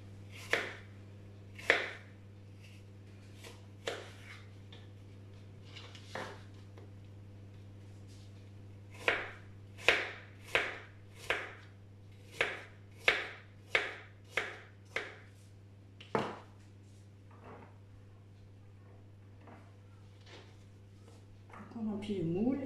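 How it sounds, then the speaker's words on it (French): Apples being cut up for a tart, a long run of sharp knife-on-board taps, sparse at first and then quickening into a steady, close rhythm over a faint low hum. "on va couper les pommes"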